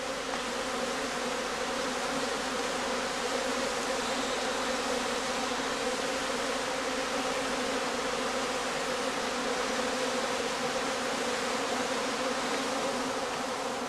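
Honeybees flying around the entrance of a straw skep on a North German heathland, a dense, steady buzzing hum that stays constant and close throughout.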